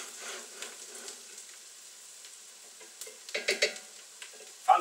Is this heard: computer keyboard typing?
no